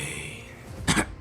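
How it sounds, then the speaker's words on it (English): Amado, a character in the Boruto: Two Blue Vortex anime, gives one short, harsh cough burst after a moment of breathy background sound. "Amado starts coughing"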